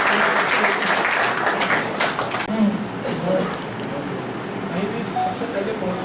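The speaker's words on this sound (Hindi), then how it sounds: "जोरदार तालियां होना चाहिए।" Audience at a Lions Club installation ceremony in Nagda claps in a burst of applause that fades after a couple of seconds, followed by a speaker's voice over a hall background.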